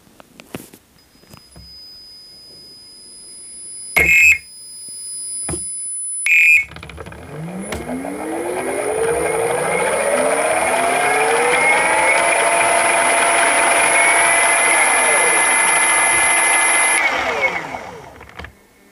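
A Flipsky 7070 electric motor running through VESC motor detection: two short beeping bursts, then a steady high whine with rising, sweeping tones that hold for about ten seconds before cutting off.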